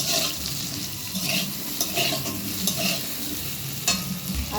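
Bottle gourd pieces frying in a pan with salt, a steady close sizzle throughout, punctuated by repeated light clicks and scrapes of a spatula stirring against the pan, with no one speaking.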